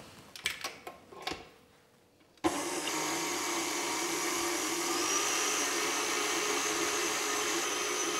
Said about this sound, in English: I'm just going to pop my egg whites in my mixer and I'm going to beat them on fairly low